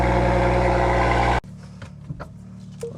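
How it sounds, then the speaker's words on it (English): A car engine idles after a cold start, a loud, steady rumble that cuts off abruptly partway through and leaves faint background noise. "Gotta get a cold start though if we're gonna start this day off right."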